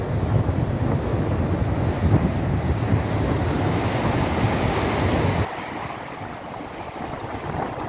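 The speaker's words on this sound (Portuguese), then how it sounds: "tá dando umas ondas fortes aqui na beirada" Strong waves breaking on a beach shore, a loud, continuous washing roar with wind buffeting the microphone, easing slightly near the end.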